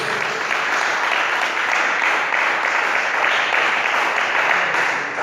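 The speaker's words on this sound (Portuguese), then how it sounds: "dê um aplauso para Jesus" A church congregation at a Portuguese-language evangelical service claps together in a loud, unbroken roar of applause that stays even and sustained for over five seconds, with no voices heard above it.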